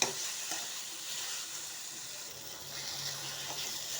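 Cooked pumpkin for halwa mashed in a pan. A soft, steady sizzling hiss comes with faint squelching and scraping strokes, quiet and close, with no talking.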